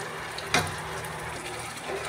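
Tomato puree hitting golden-brown fried onions in hot oil while cooking a spicy potato-eggplant curry, giving one short splashy sizzle followed by a steady, faint frying hiss.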